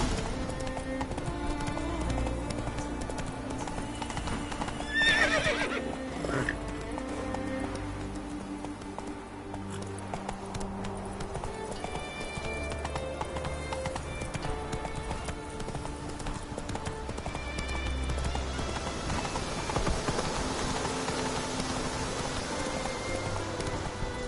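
Hooves of Roach, Geralt's horse in The Witcher 3: Wild Hunt, clopping in a steady galloping rhythm, with rain-like patter and game music underneath and a brief whinny partway through.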